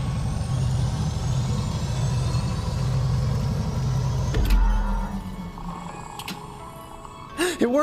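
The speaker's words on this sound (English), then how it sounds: "I'll start the engine." An engine in the VR game Star Wars Beyond Victory starts with a low rumbling idle, followed by a clunk and a whirring mechanical rise near the end.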